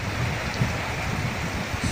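Steady rain falling, a broad even hiss with low patter that stays constant and fairly close throughout, with no voices.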